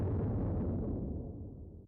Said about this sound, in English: that low rumbly sample, and then I just threw it through a little bit of distortion